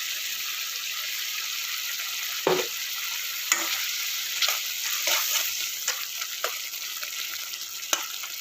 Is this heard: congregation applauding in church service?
no